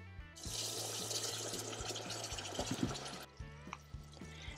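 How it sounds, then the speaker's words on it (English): Water pours steadily into a pot of chicken curry with potatoes for about three seconds, a close, splashing rush, then drips and small plops as it stops. "Add some water."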